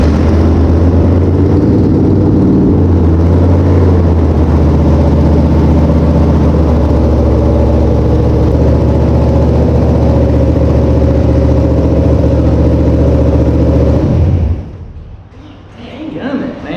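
Race car engine runs loud and close, a deep, steady idle with rough low pulsing that holds for about fourteen seconds, then cuts off abruptly and leaves a quieter tail.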